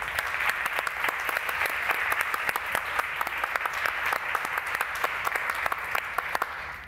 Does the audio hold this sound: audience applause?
yes